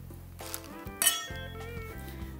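Wine glasses of sparkling Prosecco clink together in a toast, a couple of bright ringing chinks close by with a brief shimmering ring-out, over a quiet room with a faint background tone.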